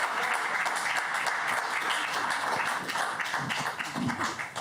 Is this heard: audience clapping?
yes